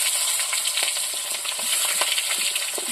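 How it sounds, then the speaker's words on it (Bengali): Brinjal pieces fry in oil with a dense, even sizzle close by, dotted with light clicks and crackles as the pieces are stirred; no talking. "আর বেগুনগুলো লাল লাল করে ভেজে তুলে রাখবো"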